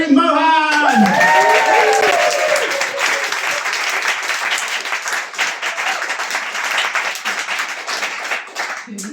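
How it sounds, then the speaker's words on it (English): Comedy club audience at a stand-up gig bursts into loud, sustained clapping and cheering as a comedian is welcomed to the stage, dense applause close up that slowly thins out over several seconds. "if you can clap, cheer, do all that stuff"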